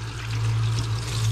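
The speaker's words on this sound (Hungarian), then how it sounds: "Kézmosás, vizes kézés" Running tap water poured over hands during a home kitchen cooking session in Hungary, a steady close rushing stream with no voices.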